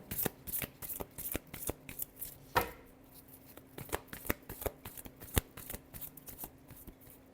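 Tarot cards shuffled by hand before a reading: dense, rapid riffling flicks up close, with one louder riffle in the middle, then steady crisp card taps continuing, no voices.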